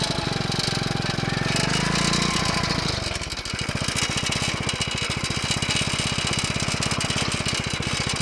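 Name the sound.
bike-engine cultivator running in gear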